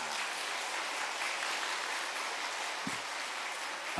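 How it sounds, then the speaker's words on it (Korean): Church congregation applauding during a Sunday service to welcome children just baptized, a steady wash of clapping from a large room, fairly faint and even throughout. "성도 여러분께서는 박수로 환영해 주시기 바랍니다."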